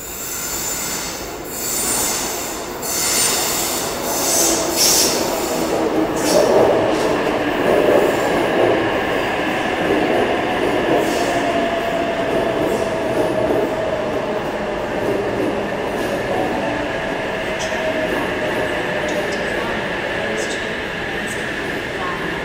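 A Sydney Trains Oscar set, cars H51 and H36, pulls into Central Station with long, loud, drawn-out wheel squeal over a steady rolling rumble that slowly fades.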